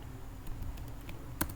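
Several soft key taps on a computer keyboard as the up arrow key is pressed, a few quiet, scattered clicks followed by one sharper, louder tap near the end.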